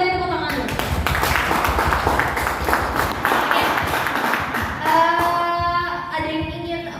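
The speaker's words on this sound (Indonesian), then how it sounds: "Mari kita beri tepuk tangan dulu." An audience at a student presidential and vice-presidential candidate debate at an STMIK campus claps in a dense, steady burst lasting several seconds, then the applause fades as a voice begins talking.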